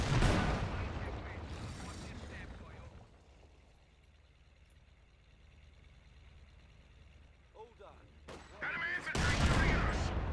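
Mortar blasts and machine-gun fire crackle in a Company of Heroes 2 match. Loud bursts of gunfire and explosions open the passage, the battle noise drops to a faint rumble in the middle, then heavy firing returns at the end.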